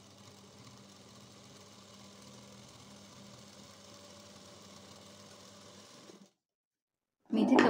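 A sewing machine double-stitching lace onto a blouse sleeve runs as a steady, quiet mechanical whir for about six seconds, then stops, and a louder burst follows after a short silence.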